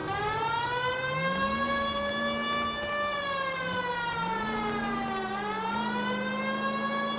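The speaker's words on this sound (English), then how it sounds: "This would be a good time for the siren." A wailing siren rises and falls in long sweeps, steady and moderately loud, with a low droning tone beneath it.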